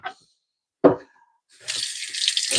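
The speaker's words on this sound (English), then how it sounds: "just gonna refill our pitcher here." Kitchen faucet running to refill a pitcher with filtered water, a couple of brief knocks and clinks first, then a steady close hiss of flowing water filling the vessel.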